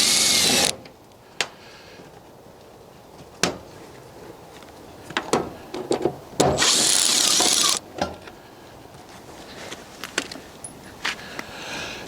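A power driver backing screws out of the panel of a Woodmaster outdoor wood boiler, two bursts of whirring drive with clicks and taps of metal handling in between, close and without talk.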